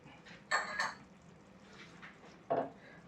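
A utensil stirs mustard rohu fish curry with tomato puree in a pan, giving three distinct metallic clinks against the pan, two close together early and one later, with quiet background between them.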